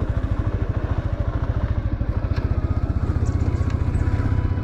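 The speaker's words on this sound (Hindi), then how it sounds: "आज मैं ना बहुत दिनों बाद बाइक से निकल रहा हूँ" Motorcycle engine running steadily with a fast, even low pulse as the bike rides along a frosty, slippery road on a cold day; loud, close and continuous with no talk.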